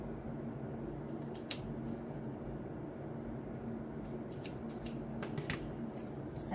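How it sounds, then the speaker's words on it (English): Scissors snip excess lace off the ends of a handmade belly band in a quiet room, a few faint, brief cuts standing out over low steady background hum. "use my scissors, cut off the excess lace at the ends"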